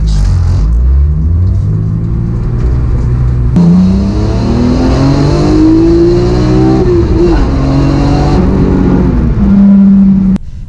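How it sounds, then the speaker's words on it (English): A BMW E46 M3 with the S54 engine, on a city test drive after new pulleys, belt tensioner and idlers were fitted, accelerates with a loud, close engine rumble whose revs climb and shift through gears. No one speaks. "Now that the engine is warm, we could give it a little go, see how it feels."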